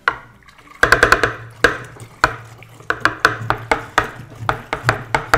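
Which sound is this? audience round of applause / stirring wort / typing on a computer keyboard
stirring wort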